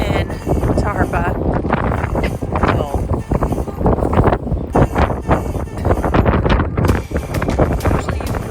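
Gusty wind blows through a wind tunnel by the glass Harpa concert hall in Reykjavik, buffeting the microphone in loud uneven bursts while a person talks over it.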